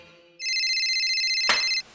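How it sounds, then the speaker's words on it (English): A cell phone ringtone plays a steady, bright electronic tone for about a second and a half, with a brief sharp click near its end, following a quiet moment. "Turn off your cell phones."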